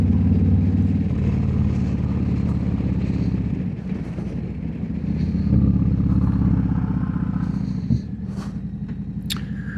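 A motorcycle out on a fall ride gives a steady, close engine drone that holds for the whole stretch, dips slightly midway and then carries on, with faint wind and road noise and no talking.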